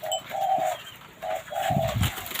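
A spotted dove coos in a repeated pattern of short and longer calls, loud and close, alternating with brief pauses and no voices over it.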